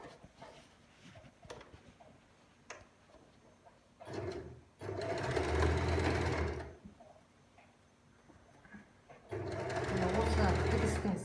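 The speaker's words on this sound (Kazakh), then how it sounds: "Осы тігістің сызығымен тігіп шығамыз." A sewing machine stitches along a seam during a sewing lesson, running in two loud, sustained bursts of several seconds each, separated by quieter stretches where people talk.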